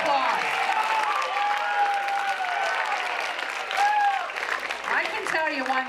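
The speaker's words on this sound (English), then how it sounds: "One big round of applause." A crowd applauds steadily at a junior high academic awards ceremony in Laurel, the clapping sustained and fairly loud throughout, with a voice speaking over it at times.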